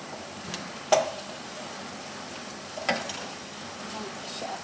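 Butter sizzling in a frying pan over medium-high heat, a steady hiss with two brief clinks or stirring knocks, close and moderately loud, with no talking.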